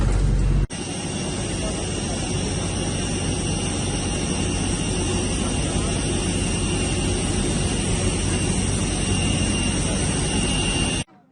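Cabin noise inside a full passenger airplane, a steady broadband whoosh with a constant engine hum that holds at an even level, without breaks, for about eleven seconds and then cuts off.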